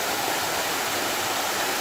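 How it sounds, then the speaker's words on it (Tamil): Waterfalls pour at Yana Caves in Karnataka, giving a dense, steady roar of rushing water that holds at an even loudness with no voices over it. "அருவிகள் எல்லாம் கொட்டிட்டு இருக்கு பாருங்க."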